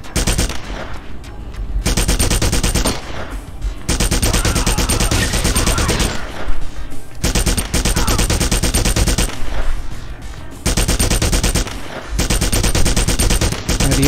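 M60 machine gun fire in the game Red Faction, loud sustained bursts of rapid shots broken by short pauses, close and dominant, with no voices.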